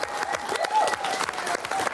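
An audience applauds at a live show, a crowd of hands clapping in a fairly close, busy stream, with brief voices mixed faintly into the noise.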